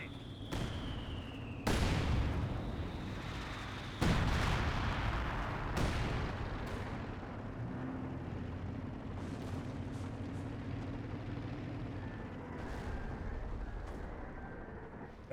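A mortar emplacement is destroyed in the strategy game Company of Heroes 2, amid several sharp booming explosions and ongoing battle rumble from artillery and gunfire, with distant shots continuing through the scene.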